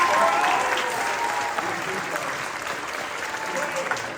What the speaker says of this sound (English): Round of applause for Lily